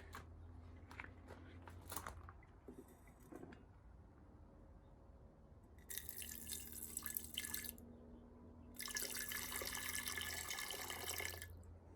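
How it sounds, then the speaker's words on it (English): Clean water poured from a bottle into containers holding gold powder recovered from ISA and PCI card fingers, with soft drips early on and two longer splashing streams near the end, close by and quiet. "let's add a touch of clean water to both of these"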